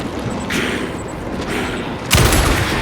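Gunfire in the horror video game Alan Wake 2: a few muffled booming shots over a steady game soundscape, the last one louder and punchier, with no talk over them.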